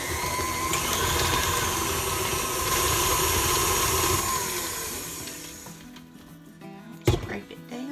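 An electric mixer creams softened butter with cream cheese for banana nut bread in a steady, loud motor whir. The whir stops near the end, followed by a sharp clatter, with a voice talking throughout.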